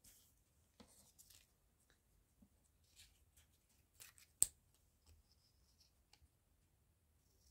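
Scissors snip quietly around the edges of base paper for a scrappy craft frame, with sparse, faint, close cuts and one sharper snip amid near silence.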